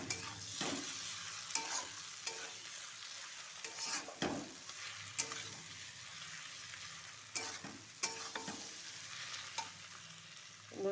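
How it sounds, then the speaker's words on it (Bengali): Potatoes and egg for aloo dim bhujia are stir-fried in a pan. A quiet sizzle runs under repeated, irregular spatula scrapes and taps. "এবার আলুর সঙ্গে ভাজা ভাজা করে নেব।"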